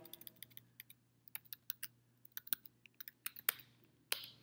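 Rapid, irregular keystrokes on a computer keyboard with a few louder clacks near the end, close and fairly quiet over a faint steady hum, with no talking.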